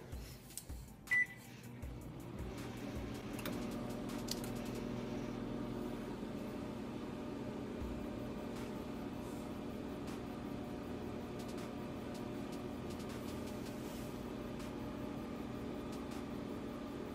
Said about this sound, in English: All right, I'm gonna get it in the microwave.